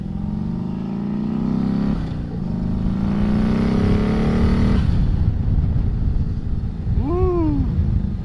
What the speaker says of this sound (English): We're on the turbo bike. Let's give this thing a try.